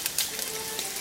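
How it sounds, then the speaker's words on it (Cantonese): Sauce being stir-fried in a wok at medium-high heat beside sliced onions, for braised beef ribs with radish, makes a brief, close, quiet sizzle with a couple of light stirring clicks and no talk. "將我哋嘅醬汁就放喺中間，炒一炒香佢啦"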